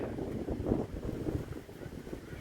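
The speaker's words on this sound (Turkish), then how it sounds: "çok rüzgar esiyor" Strong wind blows outdoors on a sandy play area, a steady close roar buffeting the microphone with gusts throughout, and no clear talk over it.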